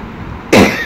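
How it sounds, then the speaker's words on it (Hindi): A single sharp cough bursts out partway through, loud and close after a moment of quiet room tone, from a woman with a bad cough in a home kitchen. "खांसी लगी हुई है बहुत सख्त।"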